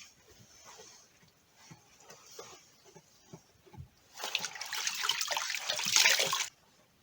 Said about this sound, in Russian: Теплой водой вот так протираем вымя.